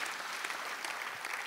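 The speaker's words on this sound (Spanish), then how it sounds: "déjenle otro aplauso al Rey bendito" Applause at a church service, a short burst of steady clapping from a congregation, fairly faint and even throughout with no voices over it.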